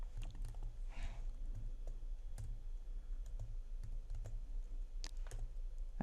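Quiet, irregular clicking from a computer keyboard as someone types HTML code for a web page, with soft keystrokes in uneven bursts throughout.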